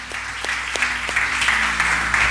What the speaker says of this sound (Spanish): Denle un aplauso fuerte a la palabra del Señor.